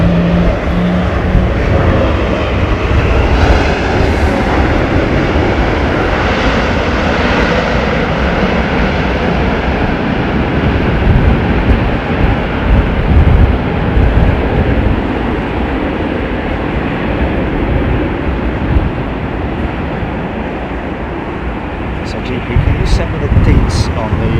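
An aircraft landing in strong wind at London Heathrow Airport: a loud, continuous engine roar mixed with wind buffeting, with voices talking over it throughout.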